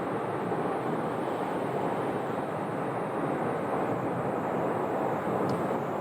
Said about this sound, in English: No call sign, A321. I think they're going to the hangar with that.